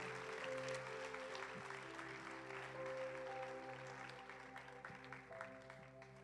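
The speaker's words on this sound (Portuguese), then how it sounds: "Você pode aplaudir para a glória de Jesus." A church congregation claps along during worship, fairly soft scattered applause layered over sustained keyboard or organ chords that shift partway through and gradually fade.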